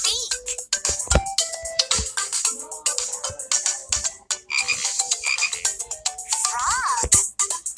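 A Laugh and Learn electronic toy plays bright, synthetic frog croaks over a busy jingle of musical tones, loud and continuous.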